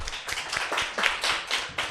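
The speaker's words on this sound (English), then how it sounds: "A hand clap, please." Audience clapping at an African women in arbitration symposium, a short burst of hand claps in uneven rhythm, moderately close and fairly clear, with no talking over it.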